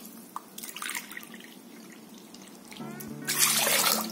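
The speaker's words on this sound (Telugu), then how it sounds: "ఈ 1 కప్ కి 2 కప్స్ వాటర్ యాడ్ చేసుకోవాలి" Water poured from a cup into a pan holding a cup of sugar for syrup, a soft trickle and splash that swells into a louder, steady pour over the last second, with no talk.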